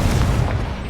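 Incendio fire spell cast in a Harry Potter video game: a short, loud, low whooshing burst of flame that fills the brief moment with heavy rumble.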